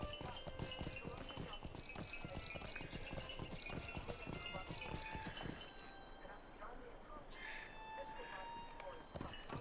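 Horse hooves clop in a quick, steady rhythm on hard ground during a farmers fair, loud and close, fading into quieter ambience with a few faint clinks near the end.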